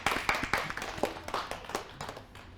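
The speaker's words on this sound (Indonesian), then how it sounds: "kita beri tepuk tangan untuk kelompok B" A classroom group gives brisk, scattered hand clapping, a short burst of applause from a small crowd that thins out toward the end.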